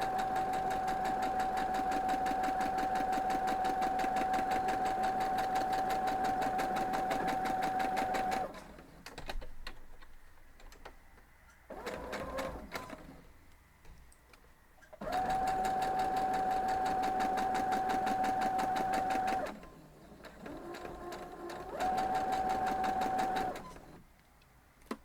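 A sewing machine stitches a Blades quilt block in long, steady whirring runs, stopping twice for short pauses filled with quiet handling noise before starting again, close and moderately loud.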